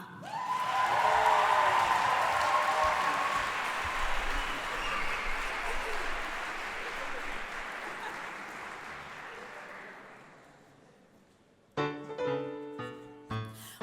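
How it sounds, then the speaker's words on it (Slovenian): Loud, sustained audience applause honoring teachers at a school class singing festival, swelling early and gradually fading, then cut off by a short burst of piano-like musical notes near the end. "en velik in spodbuden aplavz za naše drage profesorice in profesorje"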